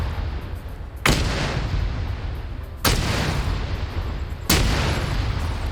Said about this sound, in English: that's a mortar firing.